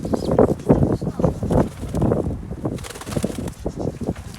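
Pigeon wings flap in bursts close by, with a faint murmur of voices underneath.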